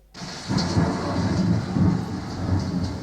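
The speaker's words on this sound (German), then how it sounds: "es regnet und gewittert" Steady rain pours throughout with low rumbling thunder rolling underneath, rising and swelling in waves.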